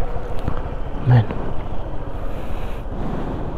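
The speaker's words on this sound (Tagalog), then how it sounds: "Pakita ko lang sa inyo yung dagat." Sea waves wash at Pipisik Beach, heard as a steady broadband rush mixed with strong wind buffeting the microphone outdoors, a voice briefly audible in the background.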